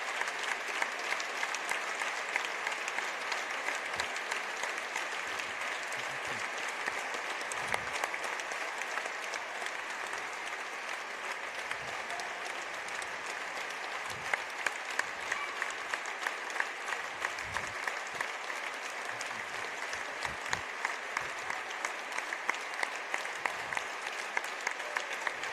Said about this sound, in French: on va applaudir Jean-Marie Maillaro, notre ami qui est parti et qui j'espère nous regarde de là-haut.